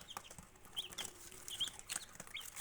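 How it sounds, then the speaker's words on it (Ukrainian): Young chicks in a warming box peep in faint, high, scattered chirps over a soft rustling background, no voices. "Ось такі курчатка."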